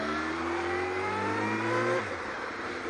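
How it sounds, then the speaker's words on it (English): Afternoon road traffic with a car engine revving loud and close, its tone climbing steadily before the car passes and the sound drops away, leaving a steady traffic hum. "this is a hell of a lot of traffic"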